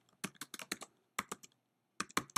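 Computer keyboard tapped in three quick bursts of crisp, close keystrokes with short silent gaps between them while a note is entered; no speech.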